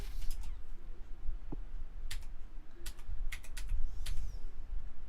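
Someone types an email on a computer keyboard, producing scattered bursts of sharp key clicks at close range over a low background murmur.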